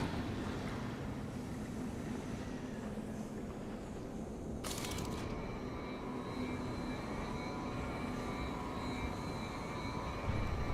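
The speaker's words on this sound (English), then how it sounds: "Industrial fumes pumped out of the spinning exhaust fan." A spinning industrial exhaust fan in the robot-filled video game Beyond a Steel Sky gives off a steady, dense mechanical drone with a low whooshing roar, accompanied by a brief sharp burst near the middle.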